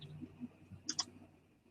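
Two quick bright clicks of keys on a keyboard, close and fairly quiet, with faint background murmur and no clear talk.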